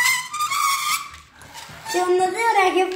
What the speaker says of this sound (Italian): Mamma che testa coda che fanno queste macchine